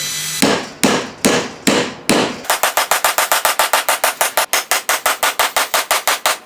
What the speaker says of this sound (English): Burn me a little hole so I could just tack a nail in there.